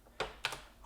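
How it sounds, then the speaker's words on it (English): A few quick keystrokes tapped on a computer keyboard, two or three crisp clicks close by in a quiet room. "we're just going to go over here and type it in."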